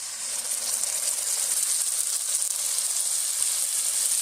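Sliced onions frying in hot oil for a red fish curry, a steady, dense sizzle that runs unbroken and fairly loud throughout, with no voices.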